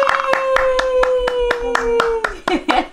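Several people clap hands together in a room, a quick run of sharp, fairly even claps close by, with voices cheering faintly along with them.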